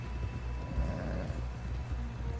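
Horse hooves clip-clop at a slow pace in Red Dead Redemption 2, with low rumbling ambience and a faint whinny, no talking over them.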